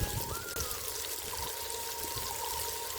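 Coconut milk poured into a pot of chicken curry, a steady close liquid stream running without a break under light background hiss.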